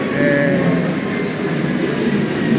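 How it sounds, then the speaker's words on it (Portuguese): An airplane passing overhead makes a loud, steady, broad roar that fills the whole stretch without easing, with no talk over it. "tem esse problema de avião passando aqui"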